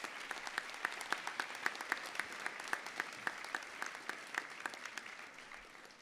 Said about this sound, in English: I'd like you to give them a huge other round of applause